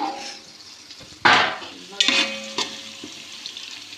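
Browned onions in a pan for hotel-style mutton biryani, a quiet sizzle broken by a few sharp clanks and scrapes as a lid or plate is moved and the onions are stirred.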